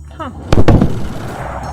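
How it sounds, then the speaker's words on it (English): A sudden loud double-cracked boom from a Concorde's supersonic flight, heard from the ground, sharp and close, with a short rumbling tail; a brief voice is heard just before it. "this is how loud the Concorde sonic boom was from the ground"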